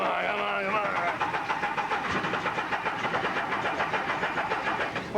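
A car engine cranks with a rapid, steady chugging under talk but does not catch, with people speaking nearby.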